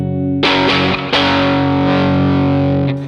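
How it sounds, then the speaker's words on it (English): Electric guitar played through an ODR-1 overdrive pedal for a classic pop rock overdrive tone, a few loud distorted strummed chords ringing out and sustaining steadily, heard alone. "if we go for an overdrive sound using the ODR-1"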